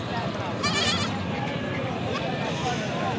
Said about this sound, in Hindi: यह 2 बच्चों की बकरी खड़ी है